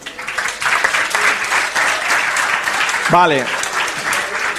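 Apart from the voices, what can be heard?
audience applause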